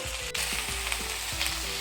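Okra frying in oil in a pan, a close, steady sizzle with regular soft scraping strokes of a spatula running underneath, no voices.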